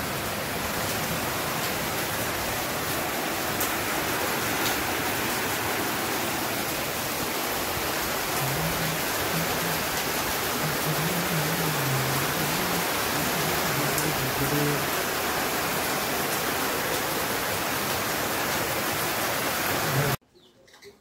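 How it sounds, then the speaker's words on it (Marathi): Steady morning rain after an overnight storm, a dense, even hiss of falling drops that continues unbroken, with soft bird coos showing faintly through the wash before it cuts off at the end. "पाऊस सुरू झालाय सकाळी सकाळीच."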